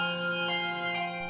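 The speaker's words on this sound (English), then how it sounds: "Handbell choirs originated in church a couple of hundred years ago in England." A large bronze handbell of about 19 pounds rings with a sustained, bright, shimmering tone, struck again softly twice as the ring decays, close and alone.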